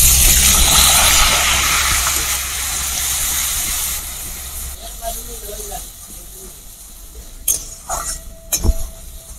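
Onion paste hitting hot oil while cooking doi katla, a Bengali yogurt fish curry, gives a loud, steady frying hiss that slowly fades, followed by a few sharp utensil clinks near the end.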